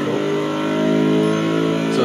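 A RUF sports car engine idles in the racing game Test Drive Unlimited 2, giving a steady, throbbing hum with a lumpy beat like an old Harley-style motorbike, held at an even level throughout.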